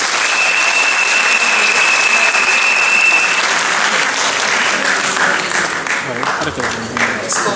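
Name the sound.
applause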